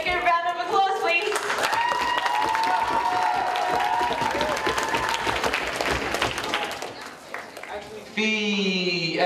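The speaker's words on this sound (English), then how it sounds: "so make a round of applause" An audience applauds and cheers for a piano player at a school closing ceremony, loud sustained clapping filling the room with some voices mixed in, ending with a brief shift to other sound near the end.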